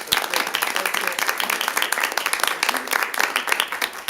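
Audience applause fills a city council meeting, a dense, steady wash of many hands clapping at moderate loudness throughout, with no talk over it.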